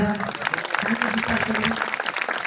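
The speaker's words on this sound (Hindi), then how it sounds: "जोर के ताली मारिबा" Listeners at an Odia religious sermon clap together, a rough burst of applause mixed with a murmuring voice and a low steady tone underneath.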